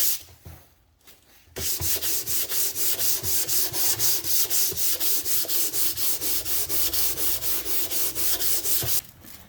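A wooden cabinet from a Philips A5X83A tube tuner radio gets sanded by hand with 100 grit sandpaper, a loud, close, rhythmic back-and-forth rasp of about three strokes per second, preceded and followed by brief pauses.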